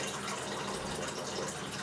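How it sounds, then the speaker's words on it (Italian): Water poured into a small pot for pasta, a steady, dense splashing and gurgling stream that stays at an even level throughout, heard close and alone. "Qui metto l'acqua per la pasta."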